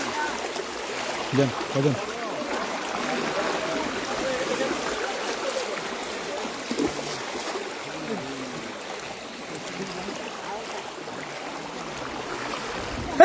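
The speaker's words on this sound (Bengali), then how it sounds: "আমার সাথে এত বড় স্রোত যাচ্ছে" Strong floodwater current rushes steadily in the Comilla flood, giving a continuous broadband wash and gurgle while people speak briefly over it.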